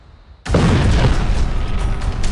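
Sound effect of a Turkish aerial bomb detonating: a sudden loud boom that bursts in after a quiet moment and rolls on as a dense, sustained rumble to the end.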